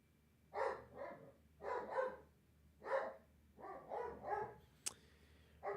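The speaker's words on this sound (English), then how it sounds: "My dog's going crazy." A dog barks indoors in a string of paired, moderately loud woofs, about eight barks in quick rhythmic bursts, with no one talking.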